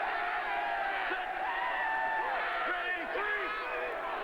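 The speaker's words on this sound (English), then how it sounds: "It doesn't take a whole lot to get a New York crowd excited." A New York football crowd at an XFL game cheers and whoops loudly and continuously, while a commentator talks over the noise.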